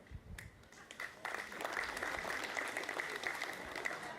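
Applause from an audience builds after a second and continues steadily, a dense wash of many hands clapping.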